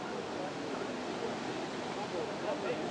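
Steady broadband wash of Pacific Ocean waves on the California coast, a soft continuous roar without distinct breaks, fairly faint.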